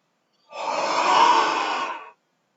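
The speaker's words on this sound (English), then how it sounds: "So, breathing in" One long, deep breath drawn in through the mouth early in the morning, close and breathy, rising then easing off over about a second and a half, with silence on either side.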